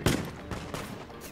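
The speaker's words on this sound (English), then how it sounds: "Okay, gunners, fire. Immediately begin firing." Gunners firing a volley in Mount & Blade: Warband, a sharp opening blast followed by several scattered reports in quick succession, fairly loud and reverberant.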